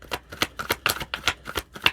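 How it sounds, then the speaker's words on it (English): Tarot cards being shuffled by hand: rapid, evenly repeated riffling bursts, close and fairly loud, with no voices. "Just excited and I start shuffling."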